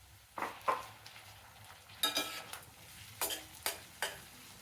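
Onion and tomato pieces are stirred in a pan for an ice apple curry, heard as a few short, separate scraping strokes against a quiet background.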